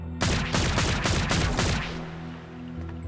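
Rapid automatic assault rifle fire in the Zombotron game, a burst of about seven or eight sharp, loud shots in quick rhythm, then a fading tail over a low humming background.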